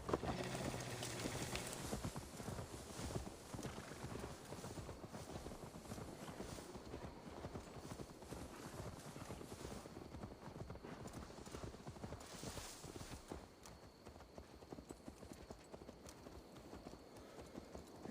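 Horse hooves clip-clop steadily through the whole stretch in Assassin's Creed Valhalla, a continuous mid-distance trot with a faint whinny-like rise near the start and game ambience underneath, no talk over it.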